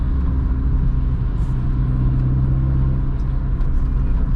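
A remapped 2000s MG ZR Atomix 1.4 hot hatch drives along, a loud steady engine drone and road rumble filling the cabin with a constant low hum and light rattles, no talking.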